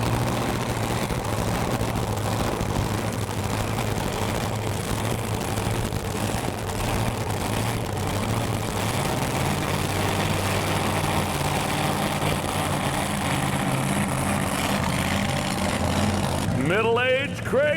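A 1,800-horsepower pulling tractor called Middle-Age Crazy, with a 500 cubic inch Donovan Hemi, roars steadily and loud at a truck and tractor pulling competition, with an announcer's voice running over it throughout.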